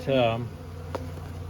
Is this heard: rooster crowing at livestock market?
no